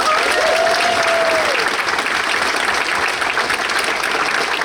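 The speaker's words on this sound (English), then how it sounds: "So I want to give them a round of applause." A banquet audience for a boys lacrosse program breaks into dense, sustained applause, loud and continuous for several seconds with no speech over it.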